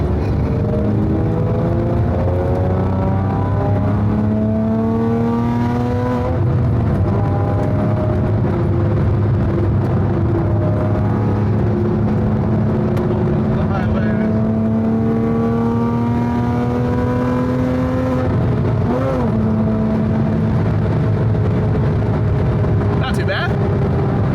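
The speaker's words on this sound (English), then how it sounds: "let's see if we can get some noise right here. Because the exhaust actually is kind of nice." A modified RWB Porsche 911 sports car accelerates hard with a loud, rising exhaust roar, easing off briefly before climbing through the gears again, with a voice speaking over it.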